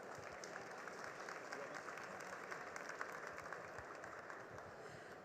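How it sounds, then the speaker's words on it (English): A business summit audience on green technology claps in a steady, sustained round of applause, dense and even throughout, heard from a moderate distance with no speech over it. "Let us give them a big round of applause."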